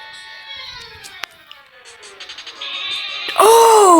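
A sheep Pokémon's bleating cry from the video game Pokémon Brick Bronze, with quieter game sounds and a click before a loud, wavering bleat near the end.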